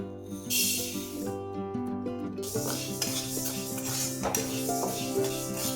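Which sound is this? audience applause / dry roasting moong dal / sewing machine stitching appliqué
dry roasting moong dal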